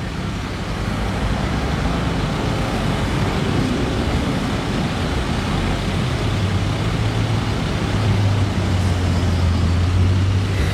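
A red Bugatti Mistral moves along a Monaco street, its engine a steady low rumble with a rising tone late on, set against a broad wash of street and traffic noise.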